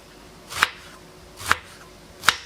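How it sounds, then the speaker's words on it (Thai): Knife chops ingredients for a stir-fried enoki mushroom dish in oyster sauce, three crisp, separate strikes on a board about a second apart, close and clear with no talk. "หั่นให้ละเอียดหน่อยนึงนะ"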